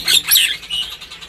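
A Nias hill myna gives loud, close, shrill whistling calls, a couple of sharp notes followed by softer trailing chirps.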